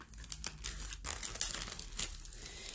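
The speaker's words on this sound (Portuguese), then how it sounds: "Então, eu vou usar o estilete aqui no cantinho, ó." Plastic wrapping around a set of Inktense blocks is sliced open at the corner with a utility knife, heard as close, fairly quiet crinkling and tearing with a few sharp rustling bursts.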